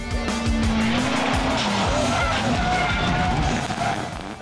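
Rally car at the Mühlstein rally in Perg district, jumping over the Machlanddamm, engine roaring loud and close with revs rising and falling and tires squealing as it skids.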